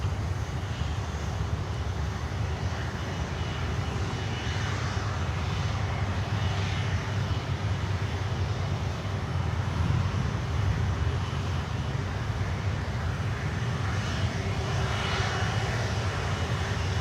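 An Avianca Cargo aircraft at Miami airport, its engines producing a constant deep rumbling roar that stays loud and even throughout, heard alone without voices.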